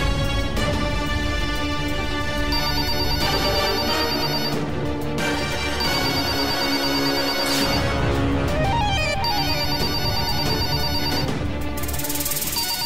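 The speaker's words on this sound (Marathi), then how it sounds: "कामाच्या वेळेला का फोन वाजतोय?" A phone ringtone plays loudly and continuously, a repeating electronic melody with bright tonal notes cycling over several phrases, with no voices over it.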